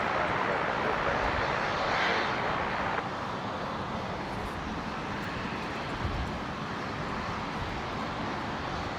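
Aircraft engine roar as a plane lands on runway 19 left at Brisbane Airport, a steady broad distant rumble that eases slightly partway through.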